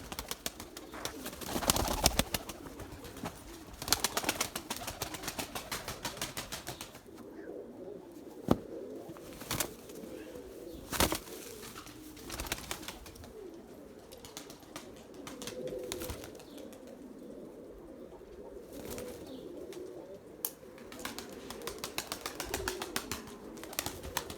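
Purebred Erzurum white breeding pigeons coo softly in their loft, low repeated murmuring calls continuing throughout with scattered faint chirps and occasional rustles and taps.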